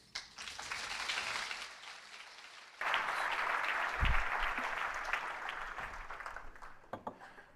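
An audience applauds to welcome speaker George Taylor at a Wilmington event, with a steady wash of clapping that briefly dips, then swells again and fades out toward the end.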